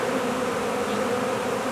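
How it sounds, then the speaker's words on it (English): A honey bee swarm fills the air with a loud, dense, continuous buzzing hum, steady and close throughout, with no voices. "I heard them buzzing, and I looked up, and bees were all in the air."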